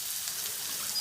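Chopped spinach tempered in hot oil in a pan for a Pahadi Himachali dish, a steady bright sizzle and crackle, close and continuous without talk.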